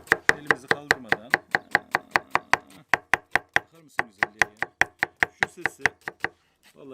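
A knife chops salad rapidly and rhythmically on a wooden board, sharp close knocks in quick steady runs with a brief pause midway.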